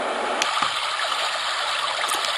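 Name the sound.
white noise machine babbling brook sound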